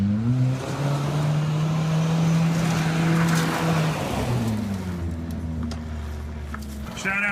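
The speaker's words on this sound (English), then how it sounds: "It's got that Subaru rolling idle to it." A Subaru-style engine with a custom exhaust in a Holden Cresta car idles close by with a lumpy, rolling burble that wobbles in pitch, steady and loud throughout, with a faint voice underneath.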